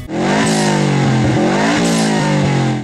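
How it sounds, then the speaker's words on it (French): Nissan RB26DETT 2.6-litre twin-turbo inline-six engine revving hard, loud and close, its pitch climbing and falling through repeated throttle blips with no talk. "le EAB26 DETT est un moteur 6 cylindres en ligne biturbo de 2 litres 6 développant 280 chevaux"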